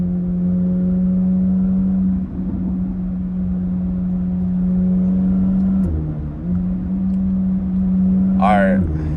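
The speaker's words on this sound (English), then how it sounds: "this car be burbling, making rumbling noises." A Corvette C8 Z06 cruising at night gives off a steady low engine burble and rumble, loud and continuous throughout, with a brief shift in pitch midway and a short higher whine near the end.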